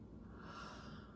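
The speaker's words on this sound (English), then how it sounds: "Breathe in." A single soft inhalation, heard faintly, as a breath is drawn in through the nose during vocal warm-up before singing, a brief airy snort-like intake with no talking.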